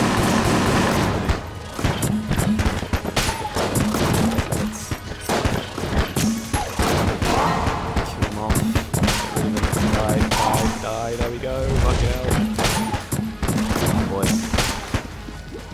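Cannon gunfire in the video game Enter the Gungeon, loud rapid bursts of booming shots and explosions layered with game effects and music, continuous and dense, with a voice talking over it at times.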